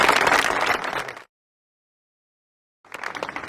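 Audience applause at a political campaign event presenting a mayoral candidate in Mataró, a dense burst of clapping that cuts off abruptly, followed by silence, then a second wave of clapping resuming.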